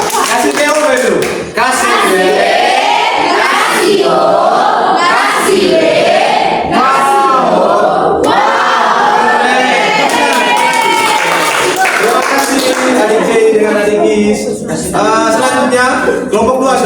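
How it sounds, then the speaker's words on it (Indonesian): Children in a classroom clap and cheer for a group that has just presented, with lively bursts of clapping mixed with excited voices and a teacher talking throughout. "Oke, tepuk tangan untuk mereka."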